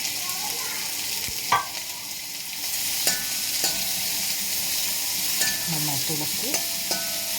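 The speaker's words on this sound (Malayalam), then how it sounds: "നമ്മൾ അരിഞ്ഞ് വെച്ചിട്ടുള്ള പച്ചമുളക്, വെളുത്തുള്ളി, ഇഞ്ചി, സവാള എല്ലാം ഇട്ട് കൊടുക്കുന്നുണ്ട്" Chopped green chili, garlic, ginger and onion sizzle loudly in hot oil for a potato stir-fry, a steady hiss broken by occasional stirring scrapes and clinks, with no speech.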